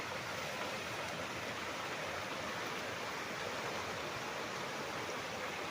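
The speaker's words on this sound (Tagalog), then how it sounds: "Ayan ang ilog mga kaprops." A river runs beside a farm lot in Liliw, Laguna, its water murky after rain, giving a steady, quiet rushing wash with no break and no voices.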